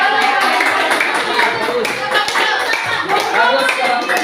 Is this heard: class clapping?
yes